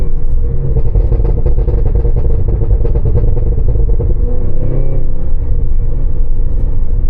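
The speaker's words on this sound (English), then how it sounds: "See, the burbles are random too, which I really like." A Cadillac Escalade V on the move puts out a steady low exhaust rumble with uneven, random burbling crackles layered on top, close and loud, with no talk.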